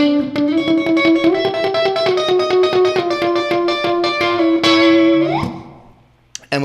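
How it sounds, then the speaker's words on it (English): An electric guitar on a Les Paul-style neck pickup with the coil tap engaged plays a clean, rhythmic run of picked notes that ends in a sustained chord. The chord rings out and fades, with no one speaking. "Now we're at just a straight Les Paul neck."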